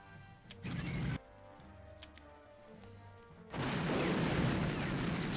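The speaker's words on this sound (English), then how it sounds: "How long range is that artillery?" Artillery fire in the war strategy game People's General: a few sharp, faint booms early on, then a sustained noisy rumble of bombardment taking over near the end.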